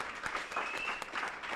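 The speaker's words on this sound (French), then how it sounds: "qu'on applaudit très fort" An audience in a French talk or panel session applauds steadily to welcome a guest, producing a continuous wash of clapping from a fairly sizable crowd, moderately distant, with faint voices underneath.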